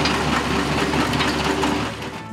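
Toy-scale excavator powering up, a loud steady mechanical whirring and grinding drone that holds evenly before easing off at the end.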